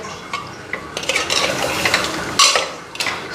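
A utensil scrapes and clanks loudly against a cooking pot while spiced goat meat is stirred, with a rough, busy rattle and a few sharper metallic hits and no speech.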